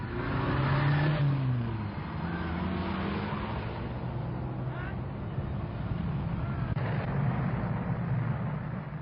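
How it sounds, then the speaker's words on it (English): A small motor scooter engine drones steadily amid early-1960s UK traffic, with passing vehicles and a voice talking over the noise. "A motor scooter, for instance, can weave in and out of the traffic."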